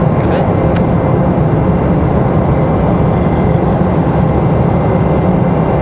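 A Republic Airways airliner passes at Raleigh-Durham airport, its steady, loud broadband jet roar filling the scene without letup and no voices over it.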